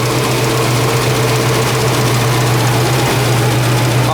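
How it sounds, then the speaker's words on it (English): A 1965 Ford Mustang engine idling steadily at about 600 RPM, a loud, even low rumble with a constant hum and no other sounds. "The idle's about 600 RPMs, guys, so it's just idling great right now."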